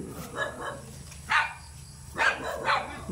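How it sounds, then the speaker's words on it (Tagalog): A dog in a rural Philippine farm province gives several sharp barks at uneven intervals, moderately close, over a quiet outdoor background. "Maganda't may aso dyan."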